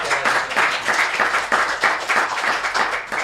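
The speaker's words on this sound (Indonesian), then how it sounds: "tepuk tangan untuk Bu Girinda" An audience at an Indonesian school counselling talk session claps for a guest teacher, a short burst of fairly loud applause with a steady, rhythmic pulse.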